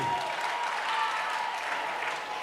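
A church congregation at a children's ministry event claps steadily for a child who has just recited a Bible chapter, a dense, even wash of applause throughout with no pause.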